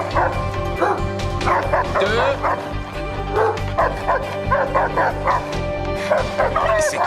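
Police dogs bark and yip repeatedly in sharp overlapping bursts, with whimpers between, loud and near, while a voice speaks briefly.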